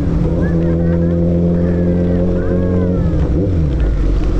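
Motorbikes on a Sunday group ride ride through flooded road water in Jakarta, with a loud, steady engine drone and rushing splash noise that runs throughout, while people talk over it.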